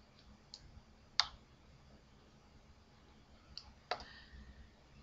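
A computer mouse clicked while setting up a Google AdWords campaign: two or three faint, crisp clicks spaced apart over a quiet background.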